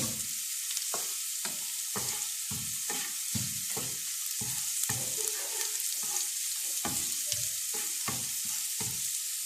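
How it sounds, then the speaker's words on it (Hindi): Steady, crackling sizzle of chicken frying in hot oil with garlic, with irregular pops and scraping stir sounds throughout; no voices. "ये मैंने इसमें चिकन डाल दिया।"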